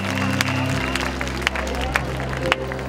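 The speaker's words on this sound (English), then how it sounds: "give Jesus a mighty clap offering" A crowd at an evangelism healing campaign in Kenema, Sierra Leone, claps and cheers steadily through the whole stretch, with scattered sharper claps standing out over a low hum.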